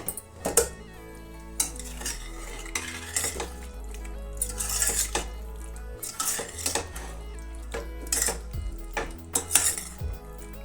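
Metal clanks and clatter from a cooled pressure cooker being opened after one whistle with drumstick curry inside. Repeated close knocks and scrapes of the lid and vessel come in an uneven rhythm, with no talk.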